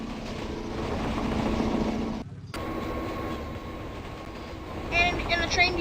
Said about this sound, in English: And the train derails.